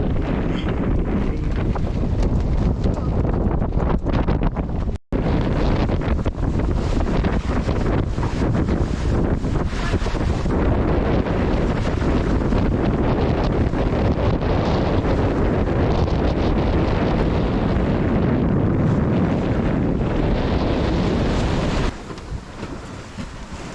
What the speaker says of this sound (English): The wind is consistent, strong but not too gusty, I feel.